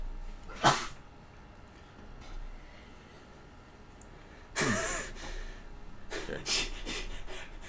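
A woman sneezes three sharp times in an otherwise quiet room, one early, then a gap, then two more close together near the end.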